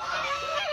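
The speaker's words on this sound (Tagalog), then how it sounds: "Ayan po yung mga ganso." Several geese honk together in a brief, noisy burst of overlapping calls nearby.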